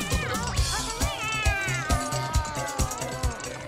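Cartoon kittens meow repeatedly in high, wavering cries, several voices overlapping over a bouncy musical background, with light rhythmic thumps marking the beat.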